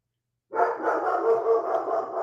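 A pet dog barks indoors at someone passing in front of the house, a steady run of loud, close barking that starts abruptly and continues without a break for about two seconds.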